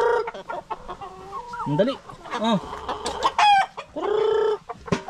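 Six-month-old Rhode Island chickens cluck repeatedly at close range, with a few rising squawks, while someone talks intermittently over them.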